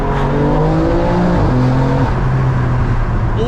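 A 560bhp BMW M3 engine drones loudly from inside the cabin, its pitch climbing and then dropping as gears change, with a steady rhythm of upshifts under constant road noise.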